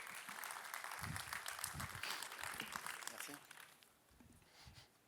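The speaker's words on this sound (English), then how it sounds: "Give him a big round of applause, everyone." An audience claps steadily, a dense patter of applause that thins out toward the end while a voice speaks underneath.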